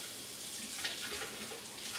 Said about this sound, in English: I'm gonna give my knife a quick rinse.